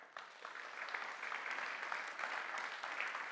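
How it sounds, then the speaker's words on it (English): Applause at an energy innovation tech forum, steady dense clapping from an audience heard at a distance, even and continuous for a few seconds after a brief quiet start. "Round of applause to Michael."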